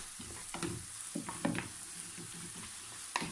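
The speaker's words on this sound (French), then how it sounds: "Vous entendez le bruit là? Là, c'est en train de légèrement caraméliser." Soft sizzling of a mixture with mustard lightly caramelizing in a pan, with intermittent scraping and stirring clatter, fairly quiet and close, no voices.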